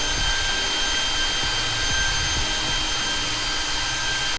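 A Begode ET Max electric unicycle charger's fan roars with a steady, loud whoosh like a small jet engine, running without letup, then cuts off abruptly at the end.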